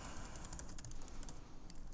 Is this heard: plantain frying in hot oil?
no